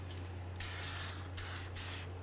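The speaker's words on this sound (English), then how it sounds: "Let's go ahead and spray down those threaded areas" Aerosol spray can hissing onto the threaded bolt areas of a 1994-2004 Chevy S-10 front steering knuckle, three close bursts of spray, the first long and the next two shorter, over a low electrical hum.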